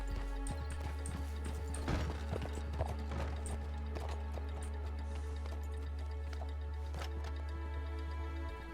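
A horse's hooves clip-clop at a steady walking pace in the RedM game, faint under a constant low electronic hum and tonal background.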